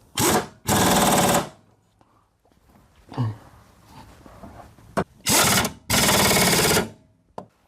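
Impact gun snugging up a riding mower blade, two loud, close, rapid rattling bursts of about a second each, separated by quieter clanking and shuffling sounds, no talk.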